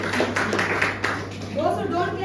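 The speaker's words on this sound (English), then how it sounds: "Please put your hands together for table topic masters" Audience applause at a Toastmasters club meeting, a steady patter of clapping through the whole stretch, with voices talking over it and a speaking voice coming through near the end.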